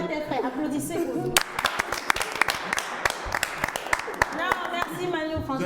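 Audience applause breaks out after a short film excerpt screening, a burst of sharp individual claps mixed with crowd noise and overlapping voices talking throughout.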